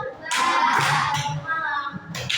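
Children clap together in a classroom clapping game, a burst of loud overlapping handclaps under a teacher's voice and kids chattering.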